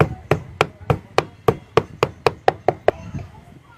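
A pestle pounds guava paste with raw garlic in a fast, even run of about a dozen sharp, hard thuds that speed up slightly, then stops. Nearby, with no talking over the strokes.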